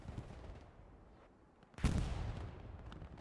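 Machine gun fire in a video game scrim on the Hurtgen map erupts suddenly partway through, a loud sustained burst that stays strong to the end.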